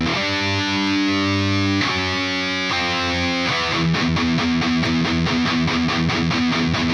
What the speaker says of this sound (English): Then we're going to get into the chorus riff, which will sound like this.